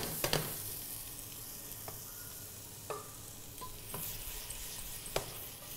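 Chopped onion and garlic fry in hot oil with a quiet, steady sizzle, broken by a few sharp clinks of a utensil against the pan.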